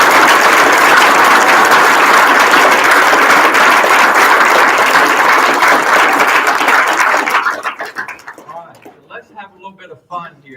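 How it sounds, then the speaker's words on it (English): A large crowd of school students claps loudly and densely for their teachers during a governor's visit, then the applause quickly dies away into scattered voices and chatter. "I would ask all the students to please join me in a round of applause for our teachers"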